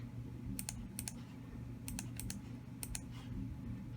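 A computer keyboard is typed on in short bursts of quick, crisp key clicks, close but soft, with pauses between clusters over a low steady hum.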